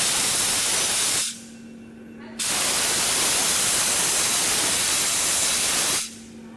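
Dry ice blasting nozzle cleaning parts in a factory before the next production stage, a loud continuous broadband hiss that cuts out briefly midway and again near the end, leaving a low steady hum.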